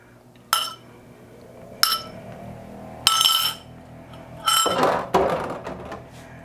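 Beaten egg mixture being stirred through cooked macaroni in a dish, heard as sharp spoon-on-dish clinks spaced a second or so apart, then a longer scraping stir, close and fairly loud with no talking.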